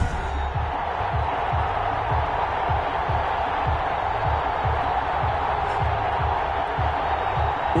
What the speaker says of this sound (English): This crowd is ready as their guys get set to match up between the Philadelphia Eagles and the London Black Knights.